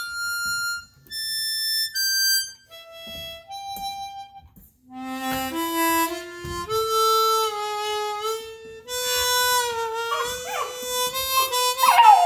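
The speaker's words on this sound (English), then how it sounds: "My little dog, Boo-Boo." A small dog howls and whimpers in long rising and falling tones alongside a chromatic harmonica playing sustained notes, the two sounds overlapping and close.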